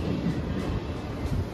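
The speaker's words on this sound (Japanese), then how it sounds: "大阪梅田駅1番線に臨時特急電車が入線してきました。" A Hanshin 9300 series special limited express pulls into platform 1 at Osaka-Umeda station, a short, low, steady rumble of the train in the station.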